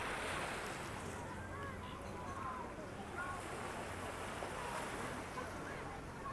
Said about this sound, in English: Oh, here come the sea shuttle.